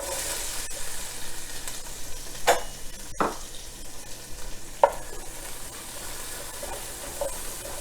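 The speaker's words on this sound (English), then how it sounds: "cook the onion about 1 to 2 minutes" Chopped onion frying in a pan for a fish curry gives a steady hiss, with a few sharp stirring clatters rising above it. The sizzle is close, even and moderate in level, and no one speaks.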